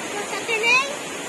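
Tining Falls at GNS Nature Park pours in a steady, broad rushing roar close by, with a voice briefly speaking over the falling water.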